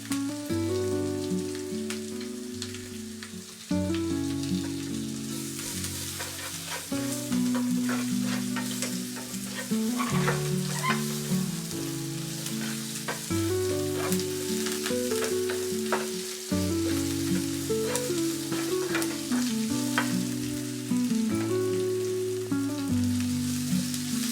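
Onion, asafoetida and curry leaves fry in oil for a Maharashtrian puran poli meal, giving a crackling sizzle with sharp stirring taps over a bed of steady tonal music.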